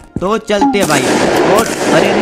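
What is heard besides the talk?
gunshots in Streamer Life Simulator video game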